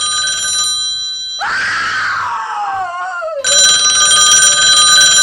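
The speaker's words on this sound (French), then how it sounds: "Vous allez décrocher ce téléphone?" A telephone rings loudly in a film scene, bright ringing bursts at the start and end with a dramatic shrieking, wailing sound sweeping downward between them.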